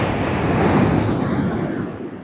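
Surf rolls onto Hornsea beach, a broad rushing wash that swells and then eases as the wave spends itself, with wind buffeting the microphone.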